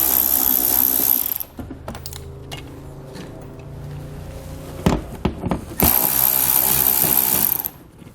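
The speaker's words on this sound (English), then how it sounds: "we'll just remove these two fasteners with an 8mm socket" A ratchet with an 8mm socket removes fasteners behind the bumper trim of a 2017 BMW X3. Two loud, rapid buzzing bursts come at the start and near the end, with scattered clicks and handling noise between them.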